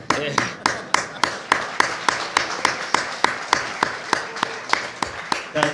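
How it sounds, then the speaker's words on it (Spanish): An audience at a flat-earth conference in Barcelona claps in steady unison, with about sixteen evenly spaced sharp beats. The clapping is moderately loud and has a faint murmur beneath it. "Un aplauso, por favor."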